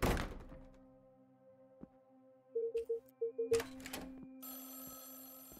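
In a mystery-solving video game, a telephone bell rings in short repeated bursts after a few dull thunks, clean and synthetic over a quiet background, with no talk.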